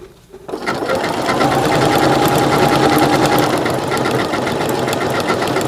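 A sewing machine runs decorative stitches on a Christmas applique, starting after a brief pause and then holding a loud, fast, steady whir close by.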